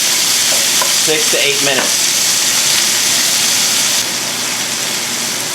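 Chicken seasoned with salt and pepper browns in a pan over medium heat for braised za'atar chicken, a steady loud broadband sizzle running throughout, with someone speaking briefly over it near the start.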